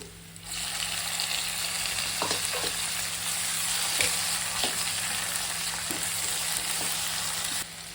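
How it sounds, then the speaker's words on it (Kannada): Tomatoes fry in oil for rasam, giving a steady, close hiss of sizzling with occasional small clicks and pops, which stops abruptly near the end. "ಎಣ್ಣೆಲಿ ಫ್ರೈ ಆಗಿದೆ, ಟೊಮೆಟೊ ಆ್ಯಡ್ ಮಾಡ್ತೀನಿ"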